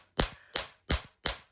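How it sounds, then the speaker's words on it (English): A chasing hammer strikes the end of a wire four times in an even rhythm to splay it flat while making a wire-wrapped beaded bangle. Each blow is a sharp, close metallic tap that decays quickly. "hitting with your chasing hammer in this specific area, and you're just hammering and splaying out that end a little bit"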